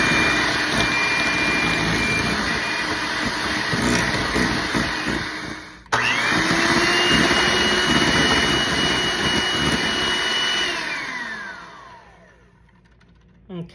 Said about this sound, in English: We are going to mix this with an electric mixer until it is nice and smooth.